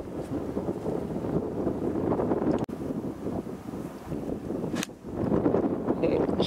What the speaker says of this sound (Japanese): ちょっと風が強いですね。